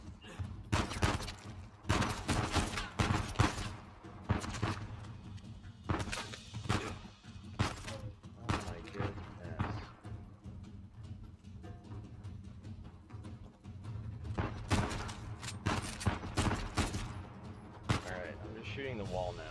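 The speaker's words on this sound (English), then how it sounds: "Who's shooting at me?" Gunfire in Uncharted 4, repeated bursts of rapid shots in clusters with a lull in the middle, loud and close, with a voice talking between volleys.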